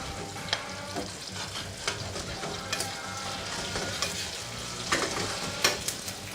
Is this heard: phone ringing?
no